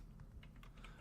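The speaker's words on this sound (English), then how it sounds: "Those good old mechanical keyboards." Clicky keystrokes on an old mechanical computer keyboard, a quick run of sharp clacks over a low background rumble.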